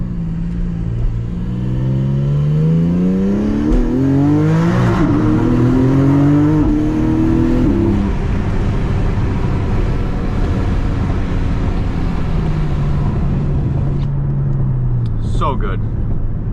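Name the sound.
Porsche 718 Spyder sports car driving, soft top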